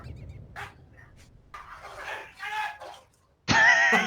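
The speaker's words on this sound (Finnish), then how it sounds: "koirat tappelee" Dogs fight in the background, with faint intermittent growls, snarls and yelps, followed by a sudden loud burst of sound near the end.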